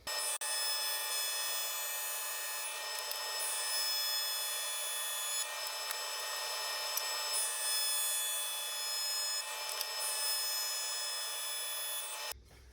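A jointer planes a tapered wooden leg in one steady, loud, continuous high-pitched cutting whine that runs unbroken for about twelve seconds, then cuts off abruptly at the end.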